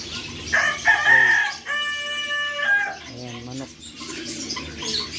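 A loud, close rooster crow rings out, stretched and wavering, amid other clucking fowl and background chatter at a bird market in Doha, Qatar.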